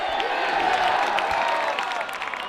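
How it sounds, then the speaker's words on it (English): A crowd at a rugby match cheers and roars in a steady, fairly loud wash of noise with scattered claps and shouts, easing off slightly toward the end. "We can hear the crowd."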